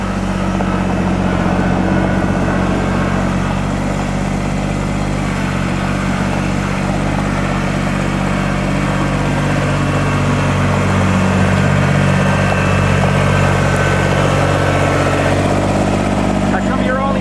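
A Kubota BX25D tractor engine runs steadily at low throttle, a loud, constant low rumble close to the microphone with no break across the whole stretch.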